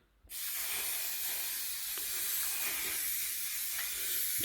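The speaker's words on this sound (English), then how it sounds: "chalk-based spray paint" A can of chalk-based spray paint fires in one long, loud continuous hiss, close by, starting suddenly and holding steady to the end. It is used to coat a handmade fish head thickly.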